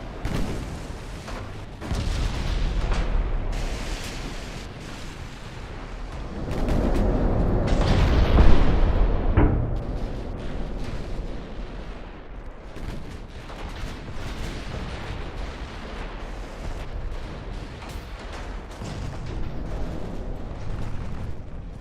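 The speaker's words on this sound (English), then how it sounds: "that great big hail of gunfire there, that is just my secondaries for the two ships" Secondary guns on two warships fire in a naval combat video game, a loud, sustained hail of booming shots that swells to a heavy peak midway and keeps rumbling throughout.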